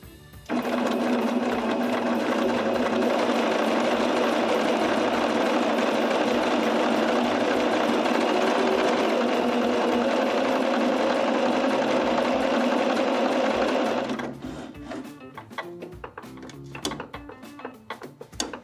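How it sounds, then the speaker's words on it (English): Sewing machine running steadily for about fourteen seconds, stitching a hem on fabric with a 5/8 inch seam allowance, close and loud, then stopping and giving way to a few light handling clicks. "I'm gonna sew this seam with a 5/8 inch seam allowance here"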